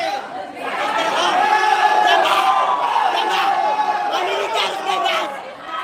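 A large outdoor protest crowd cheers and shouts together, a dense sustained roar of many voices rising and then holding for several seconds.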